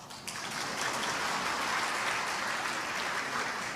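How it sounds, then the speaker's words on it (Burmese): A crowd at a Burmese literary talk claps in sustained, dense applause, a steady broadband patter that holds evenly from start to finish. "အဲ့ဒါမျိုးဆိုရင်ပြည်သက်ကလက်ခုပ်တီးရတယ်လေ"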